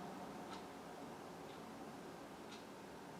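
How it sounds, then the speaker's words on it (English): A clock ticking in a quiet consulting room, faint and steady with roughly one tick per second over a low background hiss. "Maybe you can hear the tick of that clock."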